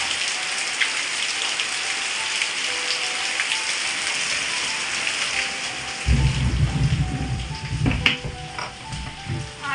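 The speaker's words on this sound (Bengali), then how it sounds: "এত জোরে বৃষ্টি নেমেছে, দেখতে পাচ্ছ?" Heavy rain pours in a dense, constant hiss close by, and deep thunder rumbles roll in partway through and again near the end.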